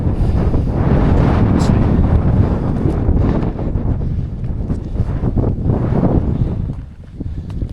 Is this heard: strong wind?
yes